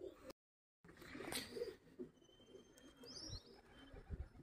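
Pigeons in a backyard coop give soft low coos and faint chirps, fairly close, with a brief gap of silence near the start.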